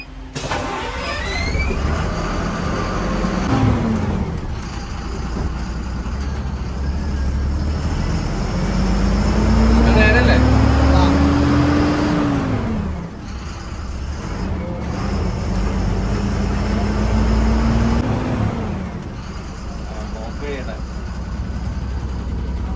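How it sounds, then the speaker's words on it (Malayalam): A new Ashok Leyland 12 m Zedbro bus with AITP permit starts and runs, its engine revving up and down in long swells under ambient noise, with voices around it. "അപ്പോൾ നമുക്ക് വണ്ടി ഒന്ന് ഓടിച്ചു നോക്കാം."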